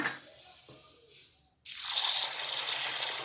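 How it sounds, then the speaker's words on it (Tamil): Green gram (mung beans) being washed in water: a soft trickle and small splashes at first, then after a brief pause a loud, close rush of running water with gritty swishing that lasts to the end. "இப்போ இதை நல்லா கழுவிட்டு வந்துடலாம்"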